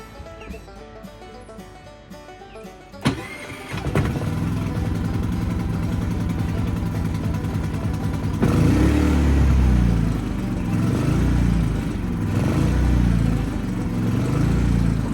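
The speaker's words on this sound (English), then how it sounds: "we got the generator on, got the camper plugged in, and we have power" A gas generator starts up and settles into a steady, loud mechanical chugging drone that runs continuously after a brief pull-start burst.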